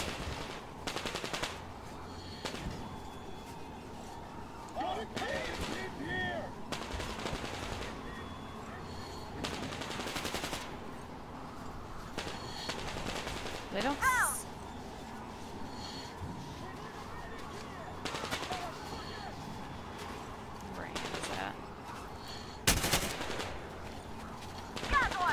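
Gunfire from the Metro Exodus video game, bursts of shots and sharp cracks recurring through the clip amid busy game noise, with a voice talking over parts of it.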